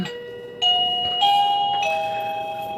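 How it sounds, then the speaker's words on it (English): A home doorbell chimes close by, three clear ringing tones one after another that hang and fade, loud and alone. "Oh my god, my doorbell."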